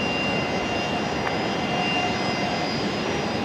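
Jetstar jet airliner at Brisbane Airport at night, a steady broadband engine roar that holds at an even level for the full few seconds, distant and continuous with no voices.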